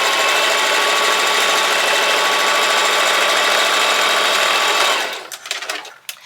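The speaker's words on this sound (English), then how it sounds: "So I'm going to sew." A Singer Heavy Duty sewing machine runs steadily while stitching a seam, giving a loud even mechanical hum that stops after about five seconds, followed by a few small clicks.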